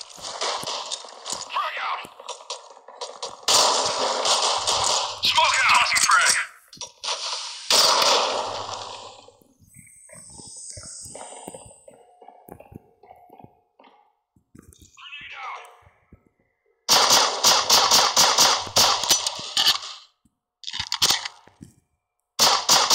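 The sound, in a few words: gunfire and bomb in a video game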